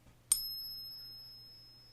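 A silver coin struck in a Pocket Pinger coin tester gives one sharp ping that rings on as a clear, high, sustained tone, fading slowly over about two seconds in a quiet room.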